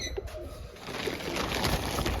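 Pigeons give a few soft, low coos against a noisy, breezy rustling background, with no talking.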